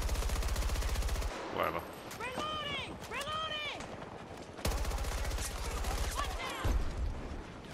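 Rapid automatic AK rifle fire in Battlefield 2042, loud and close, bursting at the start and again in the middle and end, with someone talking over the gaps between bursts.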